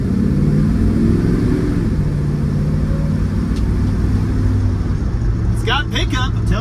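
A 1961 Chrysler 300G with a 413 Long Ram V8 pulling hard, a loud, deep engine roar heard from inside the car, with a voice breaking in near the end.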